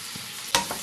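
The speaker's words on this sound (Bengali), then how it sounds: "এবার মশলাগুলোকে ভালো করে ভেজে নিতে হবে" Spices with ginger-garlic paste fry in a pan for a katla fish curry with potatoes and peas. A quiet stretch is broken by one short, sharp sizzling burst and a fainter second one, with no voices.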